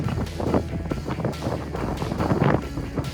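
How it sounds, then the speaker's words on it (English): Strong wind gusts buffet the microphone in a steady, loud roar that swells and dips without letup, during a storm with lightning while sailing near Vasiliki, South Lefkada. "And it's getting really windy."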